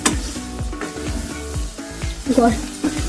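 Pointed gourd and prawns stirred and frying in a pan, with a steady sizzle under repeated scraping strokes of a spoon roughly every half second, close and fairly loud.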